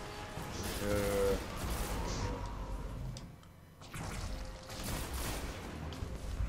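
Rapid pulse rifle bursts crackle during a Destiny raid, with clustered gunfire volleys, whooshing effects and other combat noise layered together at moderate loudness.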